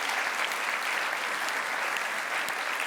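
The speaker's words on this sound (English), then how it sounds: "So this is an applause really for our national champions" Sustained applause from a crowd celebrating national champions at a planetary health event, dense, steady clapping filling the room evenly without a break.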